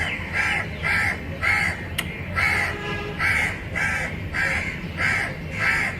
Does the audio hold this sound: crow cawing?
yes